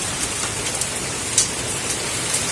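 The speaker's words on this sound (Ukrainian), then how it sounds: "Ось такий град і ось така погода." Summer hail pelting down outdoors in July, a dense, steady hiss of patter with a few sharper individual hits standing out, close and continuous with no talking.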